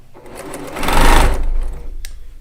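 A Baby Lock Accomplish semi-industrial straight-stitch sewing machine runs close up, a smooth rapid whirring hum that rises in speed and then eases off, heard alone without talk.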